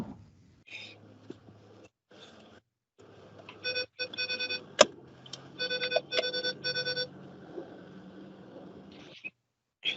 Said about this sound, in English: I was distracted by beeping.